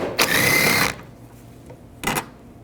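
A 10mm socket backs a bolt out of the wiper transmission on a 2010-2017 Chevrolet Equinox, heard as two short, rapid whirring bursts close by with a quiet pause between them.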